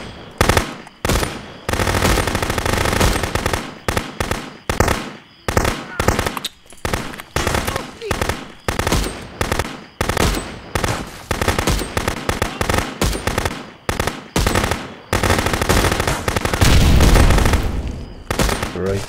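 Gunfire in the police game Contraband Police cracks out in loud, rapid bursts and single shots, dense exchanges broken by brief pauses over about twenty seconds.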